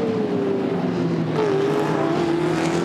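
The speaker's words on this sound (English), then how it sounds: "The big V8s will just go goodbye down this front straight." V8 touring race cars, including a Mustang Fastback, roar down the front straight at Hidden Valley Raceway, a loud sustained engine drone with pitch sweeping down as a car passes, then another following.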